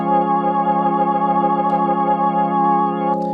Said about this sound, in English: You can hear it just slowly whirring away in the background.